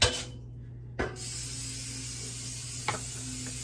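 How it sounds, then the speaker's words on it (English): Brief hissing bursts of aerosol cooking spray onto a pan over a sink, a couple of short sprays against a steady low background hum. "I'm gonna spray my pan. Spray the pan."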